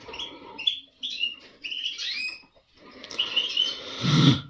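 Caged songbirds being trained toward nightingale song, a goldfinch-hybrid setting, sing close by in short bright chirped and whistled phrases separated by brief pauses, ending in a fuller, louder burst.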